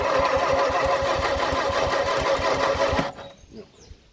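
A Morris Minor engine cranks on the starter with the choke pulled, rapid even chugging beats for about three seconds that then cut off without catching, close and loud, followed by quiet.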